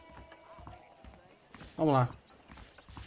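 Horse hooves clip-clop in Red Dead Redemption, soft steady footfalls under game dialogue, with a short loud tonal sound cutting in near the middle and someone speaking briefly.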